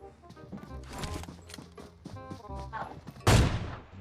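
Gunshots in the mobile battle-royale game PUBG Mobile, several scattered shots amid game noise and muffled voices, ending in one loud, close, booming blast.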